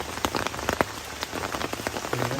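Steady rain patters on surfaces at a mountain campsite on Gunung Slamet, a dense close hiss with sharp individual drops tapping irregularly throughout, with no talking.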